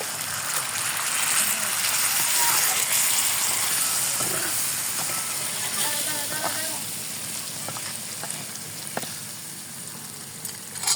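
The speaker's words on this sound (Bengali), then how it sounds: "এখন আমি পানি দিয়ে দিলাম পরিমাণ মতো।" Water is added to a simmering pangas fish curry on medium heat, giving a steady loud sizzling hiss and bubbling that eases slightly over time, with faint clinks and a brief voice in the background.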